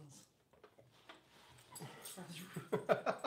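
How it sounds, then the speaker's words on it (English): A dog whimpers and yips in a quiet room, with soft, scattered whines that build into louder, closer bursts toward the end. "That's an amazing dog"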